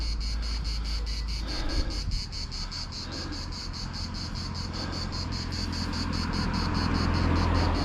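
Dense, loud cricket chirping pulses in a fast, even rhythm outdoors in a medieval Provençal village with prickly pear cactus nearby, a continuous shrill buzz with a faint low rumble underneath and no talking.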